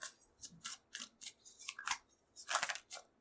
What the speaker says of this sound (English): when I shuffle, they stay clunky